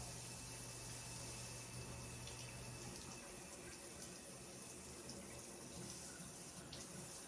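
Warm tap water runs from a faucet in a home kitchen during baking prep, a soft, steady, faint stream with a low hum fading out partway through.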